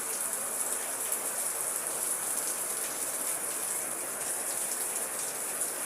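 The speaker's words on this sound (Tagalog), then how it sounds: "medyo malakas na rin po yung ulan" Heavy rain pours down steadily in a dense, continuous hiss at constant loudness, with no voices over it.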